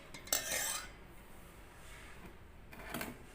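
A spoon scraping and stirring ingredients in a bowl while cooking, with a brisk burst of clinking scrapes at the start and another near the end, faint and close.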